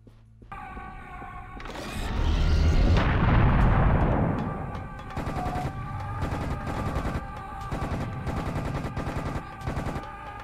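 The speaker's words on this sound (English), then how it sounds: "I think we should prepare the cannon." Loud heavy blasts of cannon and weapon fire in the Serious Sam: The Second Encounter video game, a dense booming barrage swelling midway, followed by rapid repeated gunshot bursts with ringing tonal game sounds.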